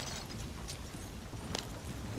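Horses clip-clop in Red Dead Redemption 2, hooves clattering faintly and irregularly amid steady rumbling ambience, with a few sharper knocks standing out.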